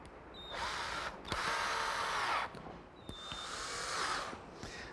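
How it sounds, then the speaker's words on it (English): A power drill drives a couple of screws to fix a template to a pergola piece, two sustained whirring bursts of about a second each, separated by brief pauses with small clicks, close and loud, no talk. "now I'm going to attach the template with a couple screws"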